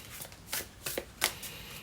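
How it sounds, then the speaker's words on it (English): Oracle cards being shuffled by hand, a few brisk riffling bursts with short pauses between them, close and fairly quiet with no talking. "Let's give it another good shuffle."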